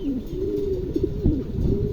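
Close, low cooing of a pair of Lakkha pigeons in repeated throaty phrases, with a brief flutter of other noise in the background.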